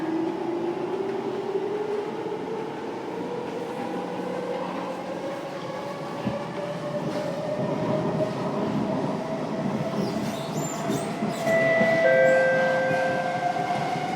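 A Singapore SMRT metro train on the East-West line near Pioneer station, bound for Joo Koon, runs steadily with a continuous rumble and rising motor whine, wheels rattling on the track as it accelerates.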